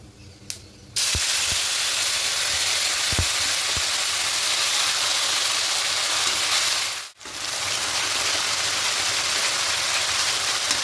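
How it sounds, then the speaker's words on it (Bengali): Tomato and ginger paste hits hot oil in a pan during a vegetarian potato, pointed gourd and soy chunk curry, setting off a loud, steady sizzle that holds throughout with a brief dip midway. "এবার এখানে যে পেস্টটা করেছিলাম টমেটো আর আদা এবার এই পেস্টটা এখানে দিয়ে দেবো"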